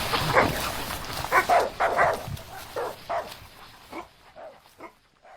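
Wild dogs held on leashes bark in a Hindi jungle-hunt audio drama, a loud cluster of repeated barks and yips up close that thins out into fainter, scattered barks.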